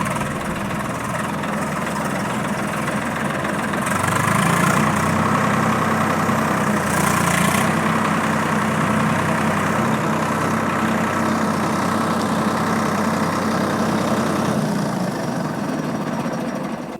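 A Swaraj 855 FE tractor's diesel engine runs steadily at a low, rumbling idle, close and loud, with a slight rise in revs partway through and no talking over it.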